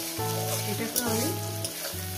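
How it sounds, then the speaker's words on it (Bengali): Katla fish fries in a pan with a continuous loud sizzle and crackle up close, briefly punctuated by a couple of stirring scrapes. "2-3 মিনিট ভেজে নেব।"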